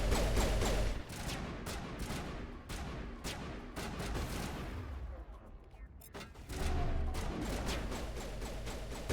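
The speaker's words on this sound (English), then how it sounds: "They keep shooting, so maybe." Gunfire in Mass Effect Legendary Edition during a battle on Eden Prime: repeated sharp shots and bursts, loud and close, easing for a moment before picking up again, with some speech mixed in.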